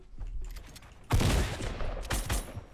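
Fortnite gunfire from a player firing at a blue-clad opponent who keeps building, with a few faint shots and then a loud burst of rapid bangs and a second volley close by.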